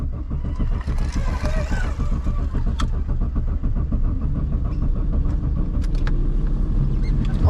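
A worn, cheap Ford Focus with battery trouble cranks and catches, then its engine runs in a rough, pulsing rumble close by. Faint background noise mixes in.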